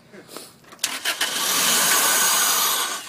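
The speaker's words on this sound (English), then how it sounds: "I'm going to attempt to start the car with no airbox" A 2000 Toyota Celica GT's starter cranks in a few quick uneven bursts with the airbox removed, then the engine catches and roars into a loud, steady run nearby.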